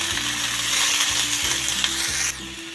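Mint, coriander leaves and tomato frying in a pan for chicken gravy, a close, steady sizzle with repeated scraping stirs and no voices.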